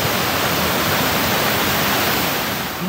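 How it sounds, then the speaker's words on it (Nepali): A waterfall near a bridge and water crossing on the trek from Dhunche toward Lauribinayak in Rasuwa, a loud, dense, unbroken roar of rushing water filling the whole short stretch with no voices. "झरना झरना।"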